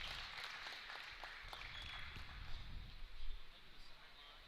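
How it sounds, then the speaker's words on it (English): Applause from a full stadium crowd at a girls' basketball game, a steady wash of clapping and crowd noise with a few sharp claps, swelling louder near the end. "Round of applause from this full stadium"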